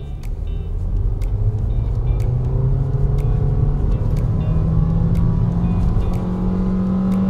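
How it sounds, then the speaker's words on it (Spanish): Nissan Kicks with a CVT gearbox accelerating at full throttle in sport mode, the engine drone rising steadily and holding a strained, even pitch as speed builds, close and loud inside the cabin with no talk. "acelero a fondo, 2000"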